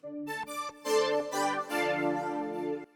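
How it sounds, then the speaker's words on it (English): A soft synthesizer chord pad from UJAM Turbo-XT with layered sustained tones, entering in several swells that blend into one held chord. "Now we're hearing a nice pad."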